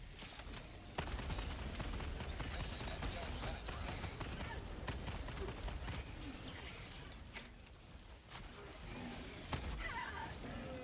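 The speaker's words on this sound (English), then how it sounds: "these mortars are kind of annoying" Mortar fire in Helldivers 2 crumps in under a dense, continuous battle din, mixed with scattered gunfire and a talking voice.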